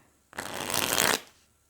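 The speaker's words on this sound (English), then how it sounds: "look at how good that shuffles" A deck of mesquite tarot cards being riffle-shuffled once, a close, crisp burst of rapid flapping that lasts under a second and then stops, with quiet before and after.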